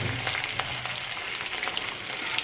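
Curry leaves and chopped green chillies crackle and sizzle in hot oil, a steady bright hiss dotted with sharp pops, close by and with no talking.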